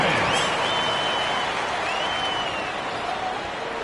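A home basketball crowd roars and applauds after a winning shot in the closing seconds of the fourth quarter, a loud, dense, steady wall of cheering that fades only slightly over a few seconds.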